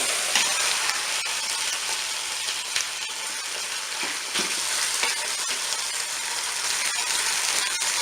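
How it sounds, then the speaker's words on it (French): A turkey thigh browns in a Cookeo multicooker for a mustard dish, frying with a loud, steady crackling sizzle close up, scattered sharp pops breaking through the constant hiss, and no voices. "On va la faire dorer elle aussi un petit peu."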